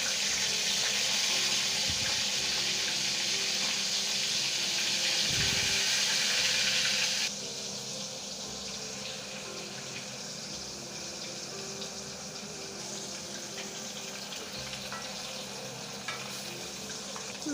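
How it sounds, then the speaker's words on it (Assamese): Turmeric-and-salt-coated fish pieces frying in hot oil in a kadai, a dense steady sizzle that is loud at first and then settles to a quieter continuous crackle. "মাছটো অকণমান বেছিকৈ ফ্ৰাই কৰিব লাগে।"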